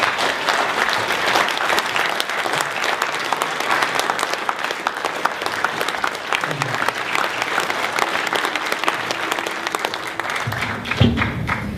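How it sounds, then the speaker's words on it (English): An indoor audience at an evening community event on police violence in Georgia gives a strong, sustained round of applause, dense clapping throughout with a few voices near the end. "I want y'all to give a strong round of applause for our good brother, Dhoruba Ben Wahab."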